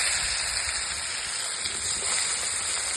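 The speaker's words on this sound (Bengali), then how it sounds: "এবার মাছগুলো পরপর দিয়ে দেবো তেলে।" Pangas fish pieces fry in hot mustard oil in a new wok, producing a steady, close sizzling hiss that stays even throughout without speech.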